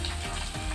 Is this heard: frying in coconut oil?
yes